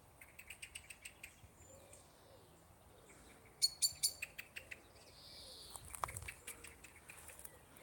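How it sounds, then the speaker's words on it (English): A blackbird singing in a tree at an allotment plot, faint and somewhat distant, with runs of repeated bright notes in short phrases over a soft outdoor hush. "That blackbird there,"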